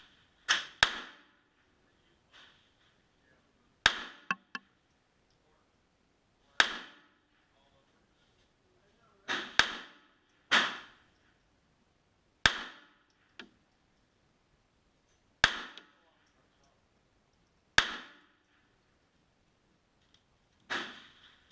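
A Ruger LCP2 pistol in 22 long rifle fires CCI MiniMag 40 grain copper-plated round-nose ammunition through its 2.75 inch barrel, giving about ten sharp, fairly quiet cracks spaced a few seconds apart, some in quick pairs.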